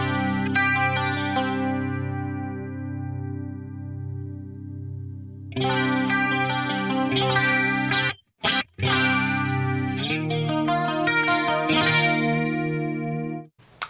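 Guitar through a BOSS MD-500 modulation pedal in CE1 mode, giving a lush tri-chorus shimmer; a sustained chord rings out, then strummed chords and picked notes with a couple of brief pauses.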